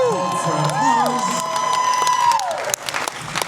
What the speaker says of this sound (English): Hold for applause.